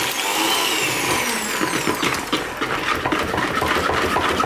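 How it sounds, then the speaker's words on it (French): An electric hand mixer beats mascarpone and cream in a bowl, its steady whirring motor running continuously and fairly loud, with a busy rattling texture throughout. "je prends donc le batteur. Je mélange donc dans un premier temps"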